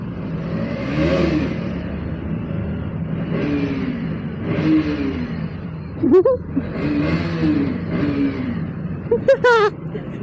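A KTM Duke motorcycle engine revs again and again in rising, whining bursts, loud and close, with a few sharp higher squeals near the end.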